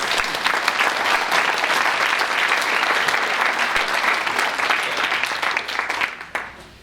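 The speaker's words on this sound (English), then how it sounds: "so please give them a round of applause" Sustained round of applause from a meeting audience honouring continuing board members, dense and steady for about six seconds before tapering off at the end.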